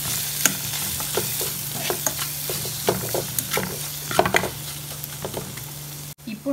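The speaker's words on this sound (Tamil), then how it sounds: "இப்போ நல்லா கிளறி விட்டுறலாம் எல்லாம் சேர்த்ததுக்கு அப்புறமா." Chilli powder and spices fry in a hot pan at home while a spoon stirs and scrapes through them, a steady close sizzle broken by repeated scraping strokes and clinks.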